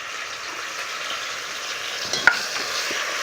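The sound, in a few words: spice paste being fried and stirred in pan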